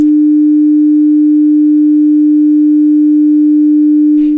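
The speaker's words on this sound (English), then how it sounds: "A pure sine wave has no harmonics, and this is why it is so important." A single steady pure tone hums at one constant pitch and loudness, smooth and unbroken, before cutting off at the end.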